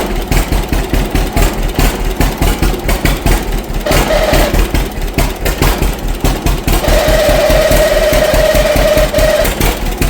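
A John Deere A tractor engine runs steadily and loud, its continuous rumble carrying a rhythmic knocking and vibration attributed to the fan shaft, with a faint whine rising partway through; no one speaks.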